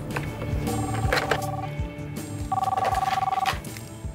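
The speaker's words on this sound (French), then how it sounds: "Oui, allô Oui, allô" A telephone rings in bursts of electronic trills, loud and close, with a short pause between rings and a faint voice nearby.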